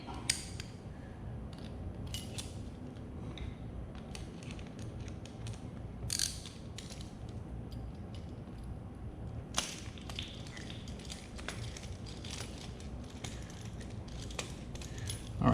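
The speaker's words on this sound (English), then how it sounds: "I'm just tightening the nut, but I'm not tightening it all the way" A nut is hand-tightened on a Garmin Striker 4 transducer mount fitted to a Hobie Lowrance Ready kayak. Faint, scattered metallic clicks and small creaks sit over a quiet background, with no talking.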